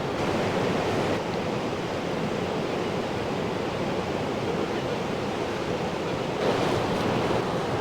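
A river in Appalachia rushes in a steady, dense broadband roar, close and constant with no voices, its texture brightening slightly near the end.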